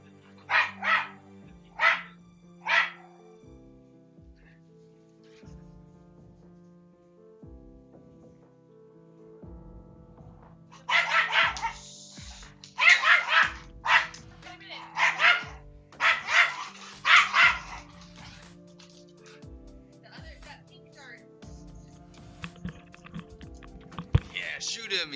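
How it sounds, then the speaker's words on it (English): A dog named Parmesan barking at guns: a few sharp barks early, then a dense agitated burst of repeated barking in the middle, heard over game sounds and intermittent talk. "Did you hear my dog going nuts, though? That's my dog, Parmesan."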